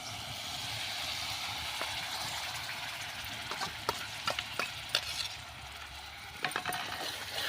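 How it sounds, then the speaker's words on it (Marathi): Spiced masala paste for a horse gram curry frying in a pan, a steady soft sizzle with a few light clicks of the spoon scraping and stirring in the later seconds. "आता मसाला चांगला परतून घ्यायचा आहे आपल्याला"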